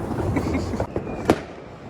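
Firecrackers going off during New Year celebrations in a city, heard as a few sharp cracks over a busy background with voices, with one louder bang standing out near the end.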